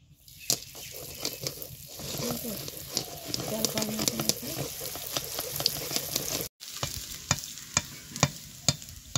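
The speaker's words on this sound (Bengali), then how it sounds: "চাল ভাজাটা খুব সুন্দরভাবে ভেজে নিয়েছি" Raw rice fries in hot oil in a wok, giving a continuous loud sizzle broken by sharp metallic clicks and scrapes from stirring, with one brief dropout partway through.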